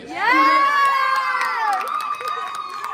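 A crowd at a high school fall sports awards ceremony cheers loudly for an award recipient, with high-pitched shouts and whoops from kids swelling at once and then tapering while claps patter through.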